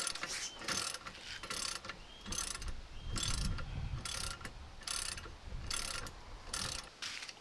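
An electric bike rack is folded down, with repeated ratcheting clicks and clunking metal mechanism bursts in a steady rhythm, close up and moderately quiet.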